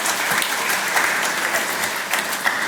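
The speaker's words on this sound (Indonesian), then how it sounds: "tepuk tangan lagi ya boleh" Applause from a congregation at a priest's first Mass fills the space, a dense, continuous patter of many hands clapping, loud and even throughout with no voices over it.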